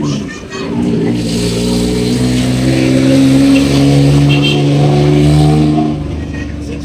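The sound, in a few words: road traffic, vehicles passing by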